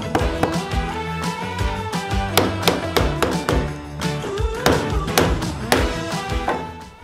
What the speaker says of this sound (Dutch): dan ga ik even voorzichtig met een rubberhamertje het kozijn weer op zijn plek tikken.